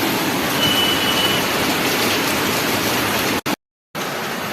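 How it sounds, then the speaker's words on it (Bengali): Heavy early-morning rain pours steadily outside a window, a dense unbroken roar that cuts out briefly near the end before resuming. "দেখো কি হারে বৃষ্টি হচ্ছে।"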